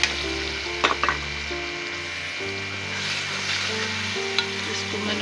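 Boiled mash lentils being stirred and fried in a pan, a steady close sizzle with a few scraping stir strokes and a low background hum, no talk.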